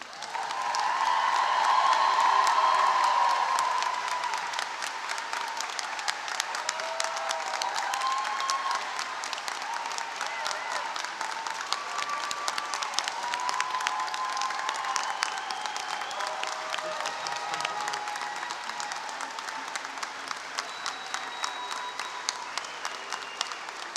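An audience at a community college nursing pinning ceremony gives sustained applause with some cheering for RN graduates, a steady roar of many hands that swells early, then continues evenly for the full stretch.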